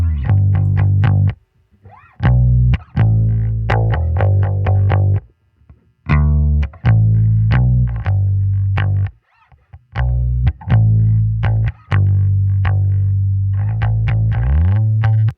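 A bass guitar EQ'd down to its 200–400 Hz harmonic band plays sustained, buzzy-toned notes in phrases, separated by short silent gaps, with no talking.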